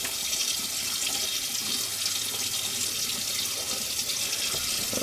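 Steady, close tap water runs continuously into a sink while a man wets his face before a straight razor shave, with no speech.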